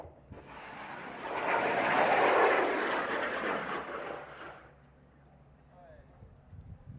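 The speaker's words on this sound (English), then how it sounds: "We are launching in 5, 4, 3, 2, 1." A rocket lifts off at the IREC 2025 rocketry competition, a broad roaring rumble that swells over about four seconds and then fades into the distance, with voices talking faintly around it.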